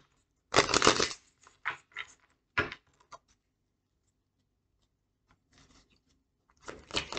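Tarot card pulled from the deck, heard as a few close, crisp papery swishes and flicks in short bursts separated by quiet gaps.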